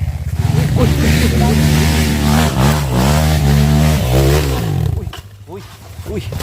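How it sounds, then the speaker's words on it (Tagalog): A motorcycle engine revs hard and close during a rough riding endurance session, its loud throaty roar rising and falling in pitch for several seconds before dropping off sharply. "Lakas ng motor ni Juan"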